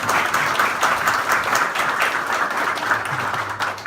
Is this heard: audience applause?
yes